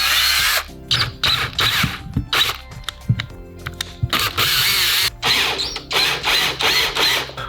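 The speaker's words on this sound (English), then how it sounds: "we now have to drill another bolt through this last 5th end cap" A power drill bores a bolt hole through a PVC end cap for a DIY camera dolly, whining loudly in repeated bursts that start and stop and change pitch as the bit bites and the motor revs.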